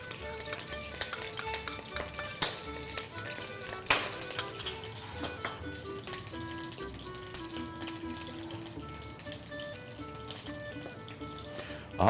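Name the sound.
oil heating and sizzling in a frying pan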